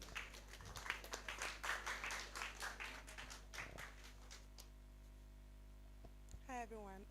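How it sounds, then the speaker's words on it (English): A youth launch event audience claps together for several seconds, a dense burst of applause that fades out, followed by a voice beginning to speak. "Please, let's clap for him."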